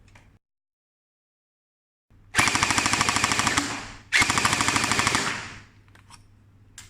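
An MST AKS-74U gel blaster fires two loud full-auto bursts of rapid rattling shots, each lasting about two seconds, separated by a brief pause, close to the listener.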